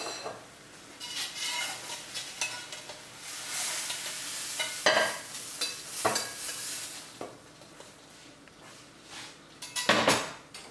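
A crêpe cooks in a pan with a soft, steady sizzle broken by several sharp scraping and clattering bursts from a utensil against the pan, close by.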